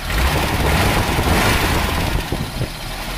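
A Toyota Kijang 5K engine runs after a light service for high fuel use, idling steadily up close with a rough mechanical rumble and a slight dip near the end, no talking.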